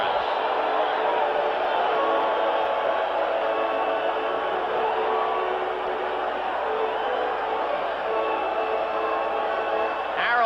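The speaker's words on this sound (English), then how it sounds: "And now even the White Sox fans are cheering for Morris." Crowd of White Sox fans at a baseball game cheering for Tigers pitcher Jack Morris, a steady roar of applause and cheering from a large stadium audience, broad and sustained, with a commentator talking over it.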